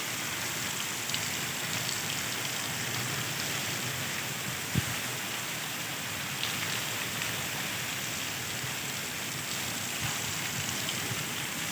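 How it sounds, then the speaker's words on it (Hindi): Steady heavy rain pours down in a dense, continuous hiss, with an occasional louder drip or knock standing out against the downpour. "इतनी तेज़ बारिश हो रही है"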